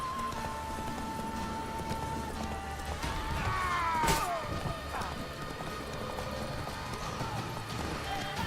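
Rhythmic hoofbeats of a galloping horse in the video game The Witcher 3: The Wild Hunt, steady under a busy backdrop of music and effects, with a sharp hit partway through.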